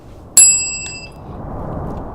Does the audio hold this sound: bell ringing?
yes